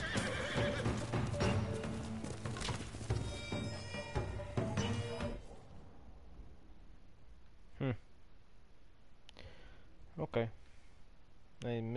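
A horse in the Ghost of Tsushima video game whinnies loudly over busy hoofbeats and music, then the scene drops quieter with a few isolated clops and snorts.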